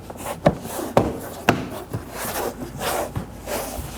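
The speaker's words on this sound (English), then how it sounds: "You should hear multiple audible clicks" Door panel clips on a 2013-2019 Nissan Sentra rear door snapping into place: three sharp, evenly spaced clicks about half a second apart, close and loud, followed by softer rubbing and handling noises.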